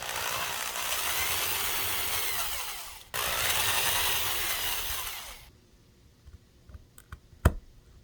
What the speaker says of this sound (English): I just drilled a bunch of holes and made them fit.